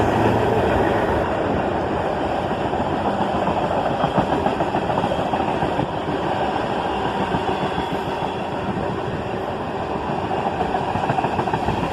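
CSX southbound manifest freight train led by ES44DC and ET44AH locomotives, hauling a long cut of tank cars: a steady, loud rumble of diesel engines and rolling wagons that continues unbroken, with no voices.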